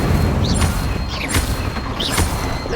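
A fire spell cast in Hogwarts Legacy roars as a dense, continuous blast of flame and rumble, loud and close, with short whooshing swirls cutting through the steady burning noise.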